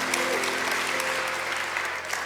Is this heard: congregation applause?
yes